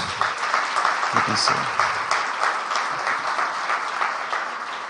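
A church congregation applauds during a celebration service, a steady wash of clapping that fills the space for about five seconds, with scattered voices and cheers mixed in.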